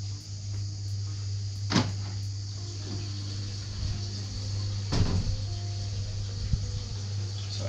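Under a steady low hum from aquarium equipment, a cabinet cupboard door on a soft coral wall tank is handled, giving a couple of sharp wooden clunks and knocks, one near the start and another a few seconds later, close and clear.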